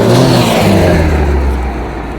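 A large truck hauling firewood rumbles past close by on a rural road, a loud low engine drone that slowly fades as it moves away.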